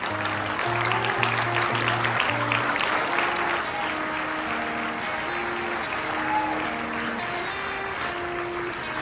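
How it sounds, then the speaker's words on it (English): Applause at a school investiture ceremony in Dubai for the flag bearers, a loud sustained round of clapping from a large audience, with steady held musical tones sounding beneath it throughout. "Let's have a huge round of applause for them"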